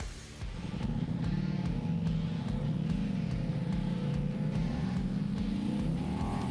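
A 2024 Ducati Diavel power cruiser motorcycle rides along, its engine droning loudly and steadily up close while the pitch rises and falls as the bike is worked through the throttle.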